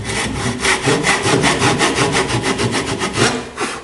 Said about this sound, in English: when you start sawing, try to saw so that you're just touching the line.